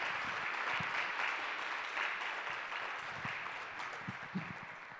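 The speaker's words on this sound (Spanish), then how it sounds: "Un aplauso a papá." Church congregation claps in a soft, distant round of applause, a steady patter of many hands that slowly fades, with a few louder thumps near the end.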